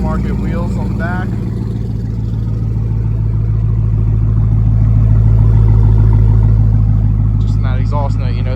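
A 2018 Dodge Challenger SRT Demon with an automatic gearbox and aftermarket rear wheels idles loudly close by, its deep burbling exhaust note steady and rising slightly as it revs, with people talking over it at the start and end.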